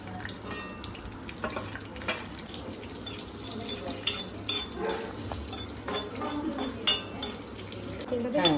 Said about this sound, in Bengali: প্রথমে কাজু কিশমিশ গুলো ভেজে নেবো হালকা করে